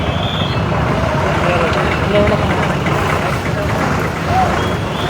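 A bus pulls away from the Mannargudi bus stand, its engine idling and rumbling steadily close by amid general station noise and traffic, under overcast pre-rain conditions.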